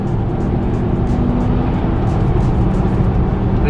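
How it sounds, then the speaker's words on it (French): A Ferrari sports car engine roars loud and close, a dense steady rumble with no talking. "Je crois que c'est une Ferrari, hein."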